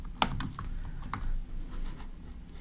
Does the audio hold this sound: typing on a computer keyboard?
yes